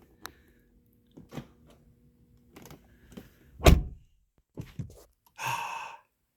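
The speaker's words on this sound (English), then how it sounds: "Well, first let's try the door lock thing." Car door locks triggered by a key fob: a few short mechanical clunks and thumps spaced over several seconds, close and moderately loud, with a final longer buzzy actuator sound.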